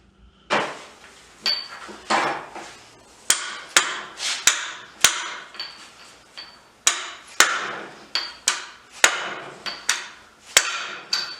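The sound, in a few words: hammer whacks during Toyota differential install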